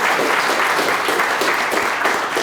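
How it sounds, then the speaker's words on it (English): Audience at a coaching talk on candid conversations giving a round of applause for a participant, a steady, loud, dense burst of clapping with no voices over it. "hand of applause for this man"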